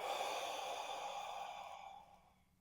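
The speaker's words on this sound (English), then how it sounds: "Breathe in and breathe out." One long, slow exhale of deep breath, airy and close, fading out over about two seconds in a quiet room.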